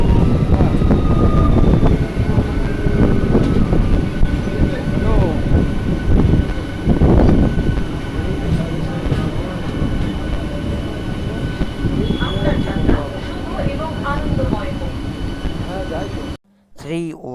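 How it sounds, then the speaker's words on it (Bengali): The 31517 Up Sealdah-Shantipur local train runs after leaving platform 2 at Habibpur station toward Fulia, a loud, steady rumble with rattling wheels and clattering carriages throughout before it cuts off abruptly near the end. "রেল স্টেশনে 2 নম্বর প্ল্যাটফর্ম ছেড়ে পরবর্তী রেল স্টেশন ফুলিয়ার দিকে যাচ্ছে।"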